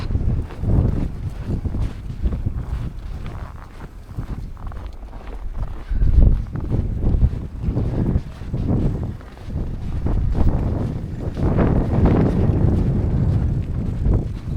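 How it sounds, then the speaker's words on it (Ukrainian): Strong wind buffets and rumbles continuously against the microphone on a snowy street in Lviv, Ukraine, loud and gusty throughout, with no voices. "Вітер так дує, що капець просто."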